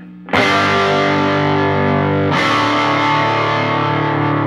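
A distorted electric guitar chord through an Oldfield Woody amp with the boost engaged rings out loud and sustained, then is struck again, with a thick, driven amp tone.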